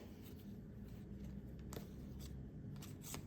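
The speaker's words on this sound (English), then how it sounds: "I feel like this deck needs a really good shuffle." A tarot card deck being shuffled by hand, quiet papery riffles and several crisp flicking bursts of cards, faint and close.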